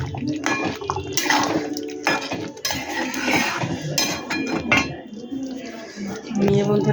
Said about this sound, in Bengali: গরম মশলা দিয়ে দিলাম, একটু ঘি দিয়ে দিলাম, দিয়ে এটাকে নাড়বো